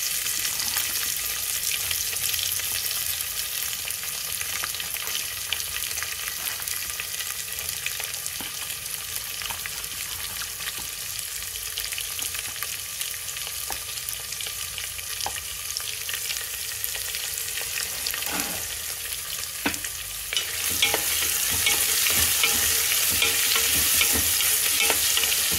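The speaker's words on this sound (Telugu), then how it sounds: "సేమదుంప ముక్కలు రెడీగా పెట్టుకొని, తిరగమాత వేగిపోగానే దానిలో వేసుకోవాలి. పచ్చిమిర్చి కూడా వేసేయాలండి." Taro pieces and green chillies fry in a spice tempering, a long steady sizzle with occasional stirring knocks and scrapes, turning louder and brighter near the end, with no voices.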